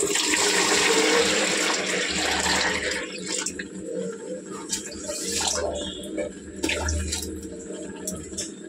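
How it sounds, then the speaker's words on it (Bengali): Tap water running hard while rice is washed in a kitchen, a loud rushing stream that eases into splashing and swirling water with small knocks, as someone speaks over it. "চালটা ভালো করে ধুয়ে নিই।"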